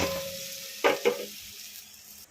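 Cut onions tipped into a hot kadai, giving two quick sizzling bursts close by that fade into a faint low hiss, with a thin steady hum underneath.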